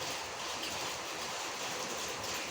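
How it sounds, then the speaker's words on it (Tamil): The Tungabhadra river at Sringeri, swollen by rain and flowing strongly, gives a steady, broad rushing roar of water that stays even throughout, with no voices. "வெளியே பாருங்கள் எவ்வளோ தண்ணி போயிட்டுருக்கு"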